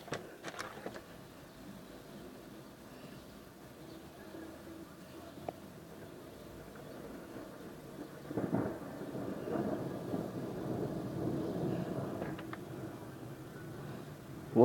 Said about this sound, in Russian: А сегодня гроза.